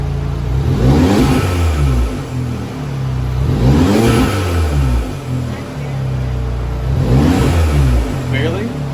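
An Audi S3 8V engine, with newly installed ECS Tuning coil packs and spark plugs, is lightly revved three times; each blip rises and falls smoothly from idle, close by, and the idle holds steady between the blips.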